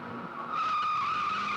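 A car brakes hard and its tires skid with a loud, sustained squeal. The screech rises suddenly and holds for over a second, with no talking.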